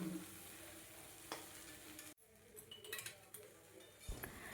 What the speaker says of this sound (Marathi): भेंडी अर्धवट शिजवून घ्यायची